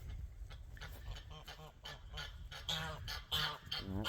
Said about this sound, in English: Oh, these geese, they just love to keep on going.